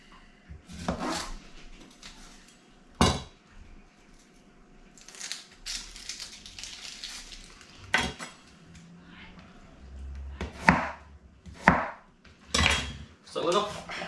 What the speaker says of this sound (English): Let's cut these onions up.